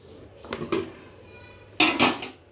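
A metal lid is set onto a cooking pot holding a fish curry with drumstick, potato and mango, giving a couple of soft clanks and then a louder clattering settle of metal on metal, with a short pause between.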